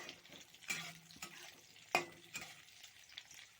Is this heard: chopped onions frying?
yes